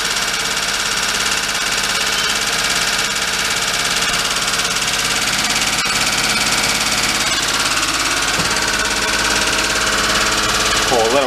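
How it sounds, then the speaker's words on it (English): A worn Daihatsu mini truck with a blown engine idles while warming up, a loud, steady, close mechanical drone with a rough, slightly knocking tone that holds constant throughout. "I keep bumping the idle down a little bit more and more."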